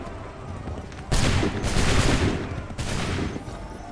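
A musket volley in Assassin's Creed III crashes out as a dense burst of overlapping shots, followed by a second ragged burst, loud and close.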